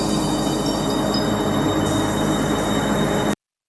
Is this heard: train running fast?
yes